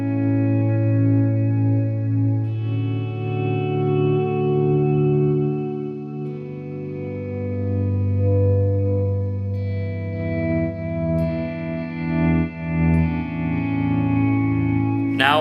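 Electric guitar played through a dual digital delay set with dotted-eighth and quarter-note repeats tapped near 75 BPM, no reverb added; sustained chords and single notes ring with echoing repeats, loud and alone throughout.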